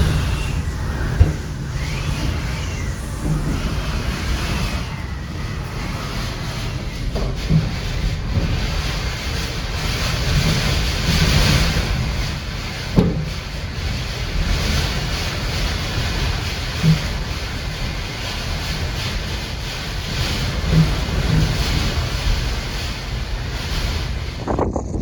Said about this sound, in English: just listen to how heavy that wind was getting.